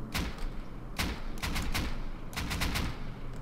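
Gunfire in the survival video game Rust: several sharp shots and rapid bursts crack out in uneven clusters, loud and near, over a steady background rumble.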